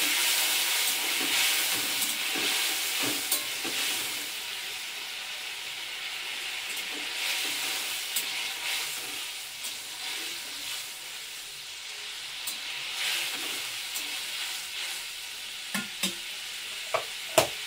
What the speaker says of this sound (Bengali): মশলা কষানো হয়ে গেছে, পুরো মশলা দিয়ে তেল ছেড়ে গেছে।